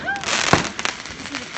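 Fireworks going off outdoors in the South, with one sharp nearby bang amid a steady crackling background, while people talk and exclaim over it.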